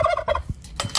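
A male turkey on a homestead lets out a loud, close gobble, a rapid warbling rattle with a few clattering knocks mixed in.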